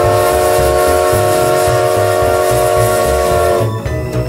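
A model train runs in Model Train Simulator, a tonal steam-style whistle held loud over a rhythmic chugging rumble before the whistle cuts off and the rumble continues alone.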